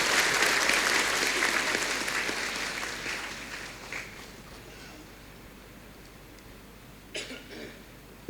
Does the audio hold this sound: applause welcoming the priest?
yes